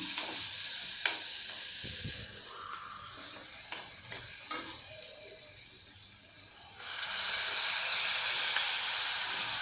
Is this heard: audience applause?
no